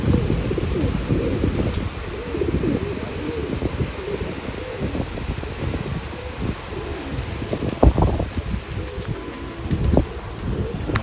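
Pigeons coo at a pigeon festival in Nashik, repeated low throaty cooing calls from several birds at close range, with rustling and scattered background noise throughout.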